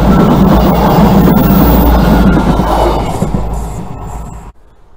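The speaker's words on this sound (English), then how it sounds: "Trains go through here down deeper into Somerset to Bradford and Avon, Trowbridge, Frome." A train on a line running toward Bradford on Avon, Trowbridge and Frome passes a pedestrian level crossing with a loud, close rumble and rattle of wheels, then fades and cuts off abruptly.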